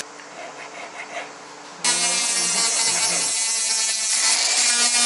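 A jeweler's polishing machine in a gold jewelry workshop in Alanya, Turkey, works on a gold ring, starting abruptly with a loud, steady, high whirring grind that persists to the end after quieter background sounds.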